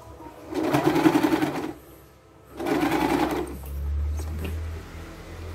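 Sewing machine running a stitch line along the edge of fabric for a 3D cloth face mask, two close, steady bursts of rapid mechanical whirring separated by a short pause, with a low hum afterward.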